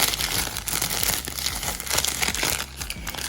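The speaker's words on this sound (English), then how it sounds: "this is, I believe, like onion skin paper" Thin onion skin paper for a junk journal crinkles and rustles continuously in the hands, close and fairly loud, with dense crackling across the whole stretch and no talking.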